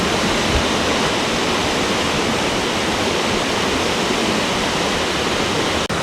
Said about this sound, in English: I'm just getting to the top of the waterfall now